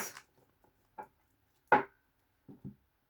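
A deck of tarot cards is cut by hand, giving a few sharp, isolated taps and slaps of card stock spaced irregularly across near-silence, close and fairly quiet.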